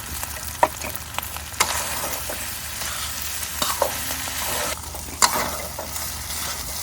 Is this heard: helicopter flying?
no